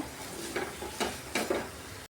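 Tomatoes and chilli frying in oil for tomato saru, a soft close sizzle with a few brief scraping strokes of a spoon in the pan before it cuts off.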